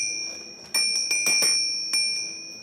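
A bell from the iconic bell wall of a TV show set rung repeatedly, bright ringing strikes, several close together, each leaving a sustained high metallic ring that slowly decays, loud and close with no talk.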